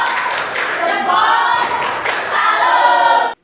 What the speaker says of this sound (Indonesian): Boleh tepuk salut.